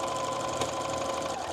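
A sewing machine stitches a quilt block seam for a primrose and forget-me-not sampler quilt, running as a steady, close, continuous whir with no talking.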